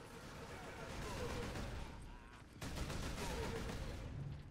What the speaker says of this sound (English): Oh, that's a bolter.